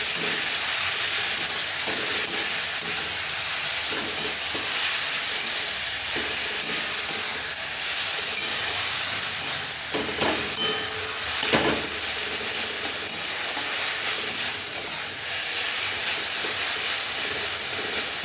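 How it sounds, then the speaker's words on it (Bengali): Banana flower sautéed with spices in a pan while its water cooks off: loud, continuous steamy sizzling and hissing fills the whole stretch, with occasional stirring scrapes and no talk. "এটা দিয়ে ভালো করে আগে কষিয়ে নেব, যাতে জলটা একটু শুকিয়ে যায়।"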